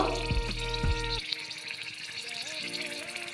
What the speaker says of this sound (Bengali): বাটি ধুয়ে হালকা জল দিয়ে দেব